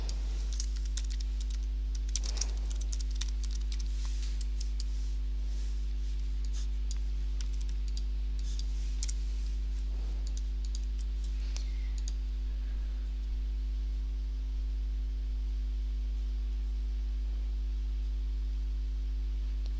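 Soft, sparse clicks sound against a constant low electrical hum, with a short cluster of quicker taps near the start and faint, scattered clicks afterward.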